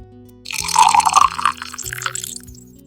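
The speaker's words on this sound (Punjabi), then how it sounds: "ਅਤੇ ਟੱਕਣ ਵਿੱਚ ਪਾਣੀ ਪਾਇਆ" Water poured from a bottle into a small lid, a short liquid splash and trickle that swells near the start and tapers off over a few seconds, heard up close and alone.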